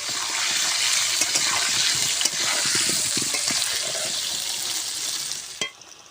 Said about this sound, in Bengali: লবণ, হলুদ গুঁড়ো, সুন্দর করে লাল লাল করে ভেজে নেব।